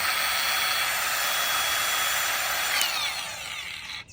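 An angle grinder with adjustable speed control whines steadily at high rpm, a loud continuous motor scream that holds for about three seconds and then drops slightly in level as it begins to wind down.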